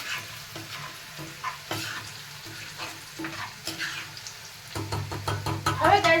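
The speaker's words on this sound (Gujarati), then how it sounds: "તો ચલો ગાઈસ, હવે આપણે આને કરી દઈએ મિક્સ" Chili powder is mixed into rice in a hot pan, with repeated scraping and knocking of a spoon over a steady frying sizzle, the stirring growing busier and louder toward the end, close by and without speech.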